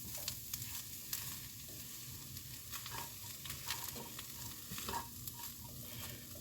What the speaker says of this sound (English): there's the vegetables. We'll mix that around in there. Make them heat up a little bit.